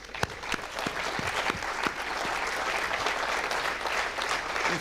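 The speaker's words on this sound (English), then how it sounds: "il faut applaudir pour Colleferro" A crowd gathered for an Arianespace Vega launch applauds, with a few crisp nearby claps early on over a sustained, even wash of clapping that holds at moderate volume to the end.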